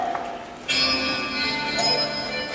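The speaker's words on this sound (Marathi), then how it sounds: "ही बेल आहे ना, ती वाजली" A bell rings clearly with a sharp strike followed by a long shimmering ring, then a second softer strike, close and prominent over a quiet background.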